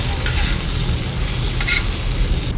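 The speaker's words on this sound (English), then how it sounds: "mix this beautiful spices into the potatoes. Mix them thoroughly." Spices are stirred into potatoes frying on a hot plate, producing a loud, dense, continuous sizzle with faint scraping of a utensil underneath, close up and with no talk.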